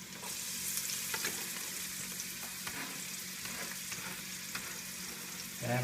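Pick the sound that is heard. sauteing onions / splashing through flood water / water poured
sauteing onions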